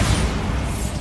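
A dense, rumbling blast from the Bombarda blasting spell in Hogwarts Legacy, a sustained low boom filling the whole moment without any voices.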